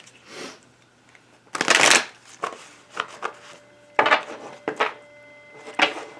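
Oracle cards being shuffled for a tarot-style reading, with several bursts of riffling and sliding that come in short clusters separated by quieter handling, up close and without talk.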